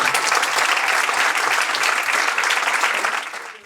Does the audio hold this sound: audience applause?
yes